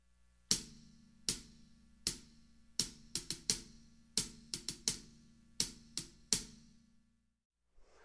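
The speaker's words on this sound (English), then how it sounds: "you can take the tip of the stick and go toward the center and get a much lighter sound like this" A hi-hat tapped with the tip of a drumstick toward the center gives lighter, brighter hits. There are about fourteen quiet, crisp strikes in loose groupings, close and alone, with no voice.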